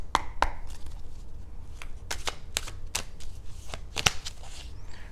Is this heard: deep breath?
no